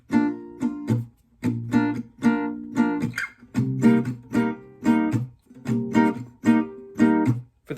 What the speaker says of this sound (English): So to play that chord progression with a little palm muting, it could sound like this.